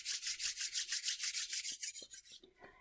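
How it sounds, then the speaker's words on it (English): Hands rub briskly back and forth as body percussion, making a rhythmic, breathy swishing of about a dozen even strokes that is close and alone before it tapers off. "You could even rub your hands back and forth."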